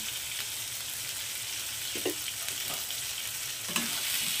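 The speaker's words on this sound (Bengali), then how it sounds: "পটলগুলো একটু লাল লাল করে ভেজে নেব, আমরা মোটামুটি একটু ভেজে নেব।" Pointed gourd (potol) pieces fry in oil with turmeric and salt, giving a steady close sizzle with a few soft stirring clinks. No one speaks.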